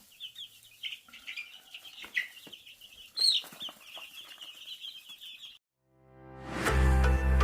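Baby chicks and big hens in a chicken coop, with a steady stream of high, rapid peeping and clucking for several seconds, ending in a loud, close burst of rustling noise.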